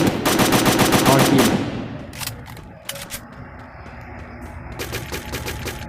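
Rapid UMP and M4A1 gunfire on Free Fire's Kalahari map comes as a loud, fast automatic burst at the start, then quieter scattered shots, then another rattling burst of rounds near the end.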